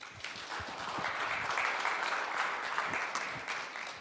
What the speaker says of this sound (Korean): 우리 남민우 사장님께 다시 한번 박수 한번 쳐주세요